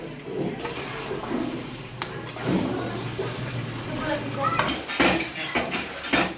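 Dishes and cutlery clatter and clink repeatedly over running water in a shared kitchen in Dhaka, Bangladesh, with sharp knocks of pots near the end, close and busy.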